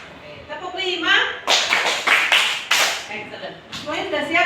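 A group of people, likely children in a classroom activity, clap together in a steady rhythm, several loud bursts of claps following one another, with voices chanting around them.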